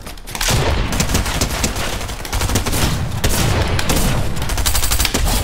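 Dense, loud rapid gunfire from the video game Fortnite keeps up almost without a break for several seconds.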